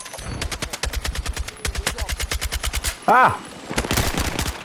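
Rapid automatic weapon fire in Battlefield 6 comes in sharp, loud bursts of evenly spaced shots, broken by brief pauses and a short electronic chirp, with a brief exclamation from a player.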